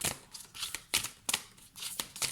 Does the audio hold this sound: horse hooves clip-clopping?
no